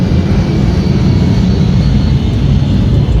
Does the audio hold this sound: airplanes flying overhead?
yes